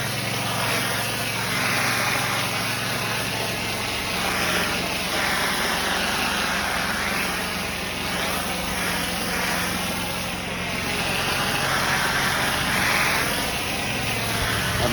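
A pressure washer engine runs steadily throughout while commercial properties are cleaned, a loud continuous motor drone with a slight rise and fall in pitch and no voices.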